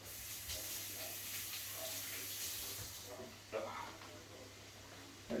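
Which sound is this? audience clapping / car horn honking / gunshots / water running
water running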